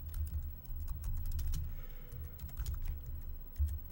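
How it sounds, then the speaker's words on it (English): Keys clatter steadily on a computer keyboard as a letter is typed in Microsoft Word, a quick, irregular run of close, light clicks with no voices. "start typing your letter in"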